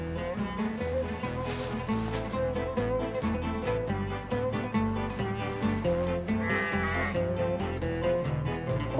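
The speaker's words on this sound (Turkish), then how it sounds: "burada koyunun ne işi var?" A sheep bleats repeatedly in wavering, nasal cries over a continuous tonal backing that runs steadily from start to finish.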